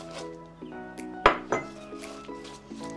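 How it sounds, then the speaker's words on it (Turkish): A glass of walnuts tipped into a greased pan brings a few sharp clinks and rattles close by, with one louder knock of glass or nuts against the metal. "Bir su bardağı ceviz içine ilave ediyorum."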